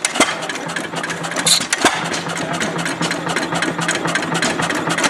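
A restored antique gas engine, once frozen and repaired, runs loudly and close by on a cool morning, its steady rapid firing rhythm slightly uneven throughout.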